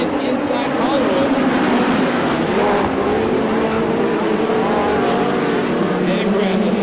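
Midget race cars roaring around a dirt oval, a loud continuous engine drone with pitch shifting as cars pass, under a commentator's voice calling the race.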